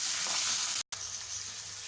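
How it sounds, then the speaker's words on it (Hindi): Ginger garlic paste frying with onions in a pan, giving a bright, continuous close sizzle that cuts out briefly for a moment before resuming. "तो अब मैं इसमें ये लहसुन अदरक का पेस्ट है 2 टेबल स्पून भर के"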